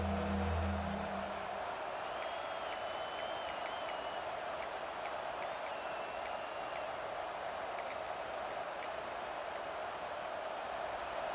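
Stadium crowd in the College Football 26 video game, a UCLA home setting, gives a steady, dense roar that holds loud from start to finish, with faint electronic ticks and beeps scattered above it.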